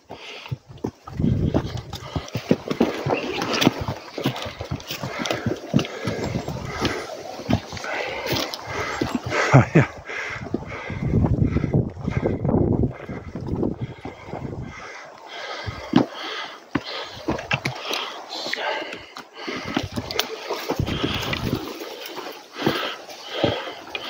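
A donkey's hooves clop unevenly along a rough path, mixed with shuffling, scraping steps and occasional snorts, close and continuous throughout.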